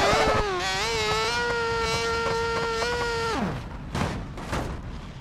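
A motorcycle in the BeamNG Drive video game accelerates on nitro with a loud, rising engine whine that holds a high steady pitch, then cuts off abruptly into a few thumping crash impacts.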